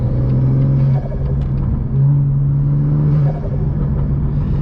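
BMW M car idling in comfort mode with a carbon hood, its exhaust giving a steady, close, loud low rumble with slight wavering flutter throughout.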